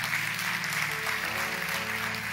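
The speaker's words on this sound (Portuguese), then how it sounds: "Dê o melhor aplauso, você pode dar ao Senhor" Steady, dense applause from a large church congregation, filling the whole clip without a break.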